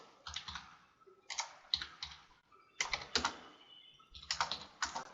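Fingers type a message on a computer keyboard in quick bursts of clicky keystrokes separated by short pauses, close and fairly quiet.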